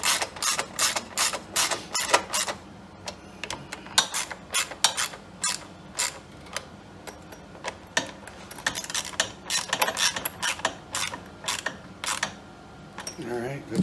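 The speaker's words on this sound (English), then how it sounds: "Let's go ahead and tighten it right down because all this is in place." A fitting is tightened with a ratchet wrench while converting a Pulsar PG6580E portable generator to propane and natural gas, giving steady bursts of close, sharp mechanical clicking throughout, with someone talking faintly underneath.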